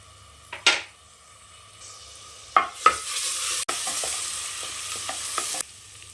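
Ginger garlic paste and turmeric frying in oil in a pressure cooker, with a loud hissing sizzle that flares up after a few spoon scrapes and clanks against the metal.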